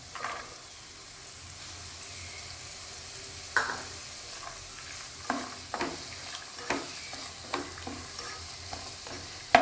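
Vegetables with carrot sautéed in a pan while making broken wheat upma, a low steady sizzle punctuated by scattered spatula scrapes and knocks, fairly quiet and free of talk.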